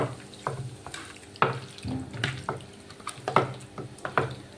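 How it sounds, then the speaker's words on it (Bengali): Hands knead and squish lote fish with ginger paste, salt and spices in a bowl, producing close, wet, irregular squelching and slapping sounds in uneven rhythm, with no talking. "এরপর সব কিছু ভালো করে হাত দিয়ে মেখে নেব"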